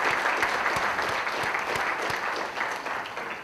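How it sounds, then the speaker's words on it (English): A seated audience applauds a three-person panel at a talk on teamwork, a steady dense wash of clapping that holds at an even level throughout, close and full with no voices rising above it. "Let's give them another round of applause."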